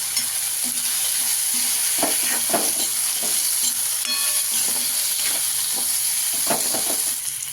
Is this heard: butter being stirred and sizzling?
yes